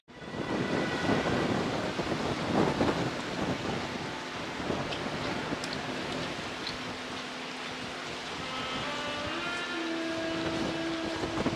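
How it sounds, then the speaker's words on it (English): Cold, blustery wind in Skagway, Alaska rushes steadily across the microphone, rumbling low with scattered gusts and faint tonal hums in the background. "It's a little windy and cold"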